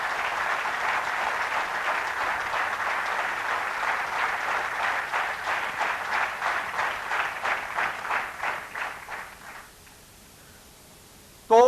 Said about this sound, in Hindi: एक जोरदार तालियां होनी चाहिए इनके लिए।